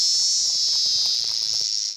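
Cartoon characters voicing a cicada imitation, a loud, sustained high buzzing drone held steadily for about two seconds before cutting off.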